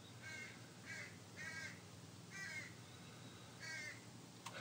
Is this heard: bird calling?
yes